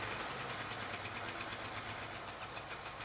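A 1982 Honda Civic engine idling after its first start in years, a steady loud rapid chugging with a rough, slightly uneven pulse from a misfire and exhaust leak, close and unbroken.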